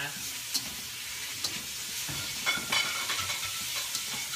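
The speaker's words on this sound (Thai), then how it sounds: "ต่อไปนะคะก็ พริกหยวกนี่ค่ะ ผัดไปนะคะ" Sweet banana peppers stir-fried in a pan give a steady, moderate sizzle with faint scraping and stirring clicks, heard alone without talk.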